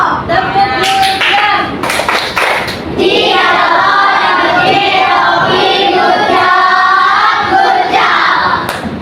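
Schoolchildren in a fifth-grade classroom clap a rhythmic 'good job' pattern together, a loud group of hands striking in bursts, with voices shouting along.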